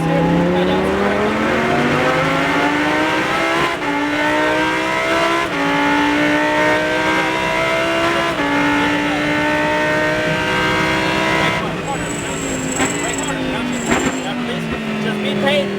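A Lamborghini Super Trofeo race car on the Exotics Racing track in Las Vegas, its engine revving up loudly through rising gears in a steady, continuous pull, with an instructor talking over it.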